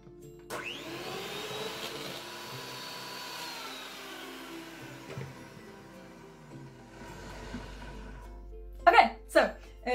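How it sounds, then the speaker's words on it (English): An electric whisk whirs steadily through macaron mixture for several seconds, then winds down and stops, followed by a person speaking briefly close by. "Just gonna whisk it real quick still."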